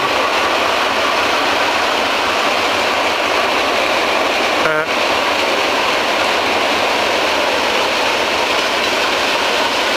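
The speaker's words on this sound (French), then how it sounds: "Et le petit train qui passe juste derrière le camping." A small train rolls past just behind a campsite, a steady broad rumble of wheels and carriages that holds evenly throughout, with one brief whistle-like tonal chirp midway.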